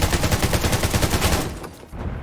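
Loud, rapid bursts of automatic gunfire in the Undawn video game, hammering in a steady fast rhythm for a second and a half before cutting off, with no voices.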